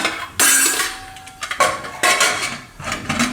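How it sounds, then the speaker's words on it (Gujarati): A metal pressure cooker lid is handled and closed on a kitchen stovetop, giving a few sharp clanks and scrapes of metal against metal spread over a few seconds, with no talk. "ગેસ આપણે ચાલુ કરશું અને કુકરનું ઢાંકણું બંધ કરી દઈશું"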